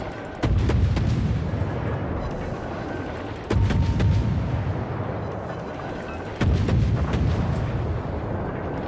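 Three heavy naval gun salvos in a warship video game battle against the Chapayev, each a sudden loud boom trailing into a long rumbling roar, spaced about three seconds apart.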